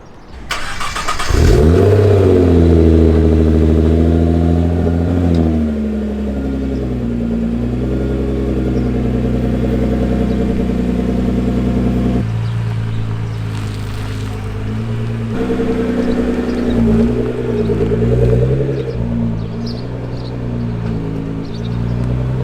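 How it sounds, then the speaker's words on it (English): A Nissan GT-R engine is revved loud and close inside a shop, its deep throaty drone rising and falling in long sustained pulls with no talk over it. "I thought I was listening to the R8 they have on the lift in there, but it was apparently this GTR the whole time."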